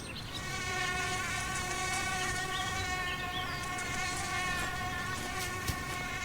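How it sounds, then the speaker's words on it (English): A dense, steady whine of many mosquitoes buzzing together, continuous and fairly close, with no voices. "the swarms of mosquitoes are extremely annoying"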